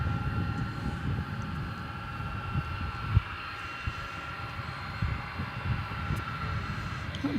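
An Airbus A300 airliner arriving at DFW airport at night, a steady distant engine roar and broad rushing hum with a few faint thumps.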